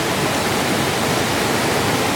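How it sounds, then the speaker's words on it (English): Gogandara Falls roars steadily at its lower section on the Coomera Circuit in Queensland, a dense, unbroken rush of falling water heard up close with no other sounds. "this is the gorgeous Gogandara Falls"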